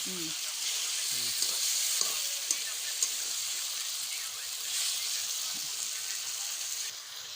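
Meat frying in a pan as a little water goes in, giving a steady close sizzle with a faint watery hiss and occasional stirring scrapes.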